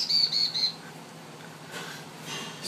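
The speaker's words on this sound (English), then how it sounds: "There's a bird in the office." A bird trapped indoors in a Mr. Lube office gives a quick series of three thin, high chirps at close range, followed by quiet room noise with faint rustling.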